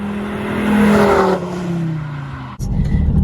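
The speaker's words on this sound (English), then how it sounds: "that's thanks to its lovely straight piped exhaust" A loud straight-piped exhaust on a 220 bhp diesel Volvo C30 revs up and falls away in a rising and dropping roar, then cuts abruptly before a rough idle.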